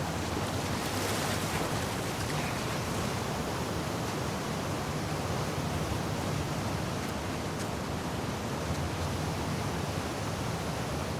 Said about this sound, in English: it remained in essence in the section swimming to the aquarium as Ellie when you were avoiding the waves.